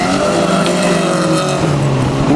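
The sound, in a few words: Peugeot race cars in a folcar race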